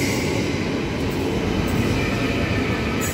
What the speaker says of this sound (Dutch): ik zit nu in de trein